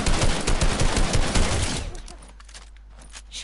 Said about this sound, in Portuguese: Como é que eu dei vários tiros no gajo?